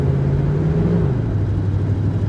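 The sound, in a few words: pickup truck engine running rough while shifting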